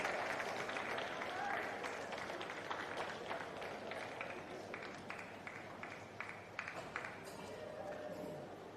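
A crowd applauds at an outdoor dressage competition, steady scattered clapping running throughout at moderate distance, with a commentator's voice partly mixed in.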